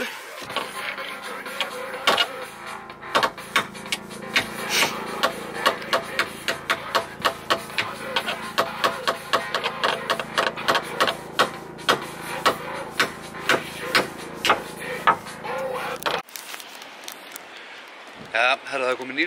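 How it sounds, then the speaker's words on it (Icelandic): A hammer striking wood while a hole is dug, a long run of sharp, closely spaced blows at a quick, fairly even rhythm, close and loud, stopping before a short quieter stretch at the end. "Ef þú heldur hérna á hamrinum"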